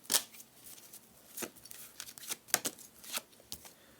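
Tarot cards shuffled by hand close up, a quick series of about eight crisp riffling bursts in uneven rhythm, quiet and alone without talk.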